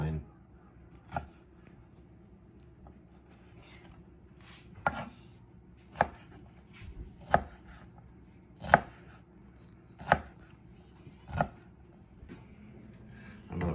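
A knife chopping vegetables on a cutting board while cooking butter chicken, eight or so crisp, separate chops at an uneven pace, each one sharp and close, over a low steady background hum.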